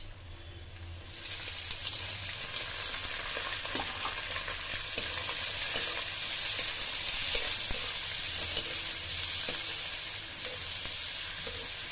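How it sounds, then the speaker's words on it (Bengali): Chopped onion hits hot oil in a pan and sizzles loudly and steadily up close, a continuous bright hiss with faint stirring scrapes running throughout. "তারপরে দিয়ে দেব কাটা রাখা পেঁয়াজ"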